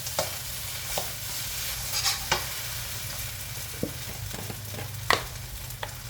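Pork belly stir-frying with half a teaspoon of sugar in a pan, giving a steady low sizzle broken by a handful of sharp scraping clinks from the spatula.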